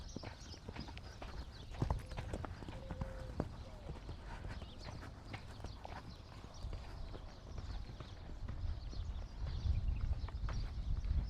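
Hooves of an Arabian endurance gelding clip-clop in a steady walking rhythm, close and fairly prominent over a constant low outdoor background.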